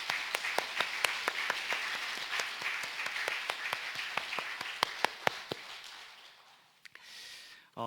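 A church congregation at a New Year's Eve worship service breaks into sustained applause with sharp, rapid claps close by. The clapping fades toward the end before brief low sounds.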